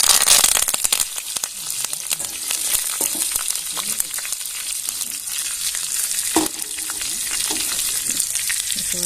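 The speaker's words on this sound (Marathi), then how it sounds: "इथे फोडणी तयार करून घेऊया मोहरी घालून घेऊया अर्धा टीस्पून दोन लाल मिरच्या दोन हिरव्या मिरच्या आणि कढीपत्ता" A tempering of half a teaspoon of mustard seeds, two red chillies, two green chillies and curry leaves hitting hot oil; loud, crackling spits and pops burst close up and settle into a steady sputtering sizzle.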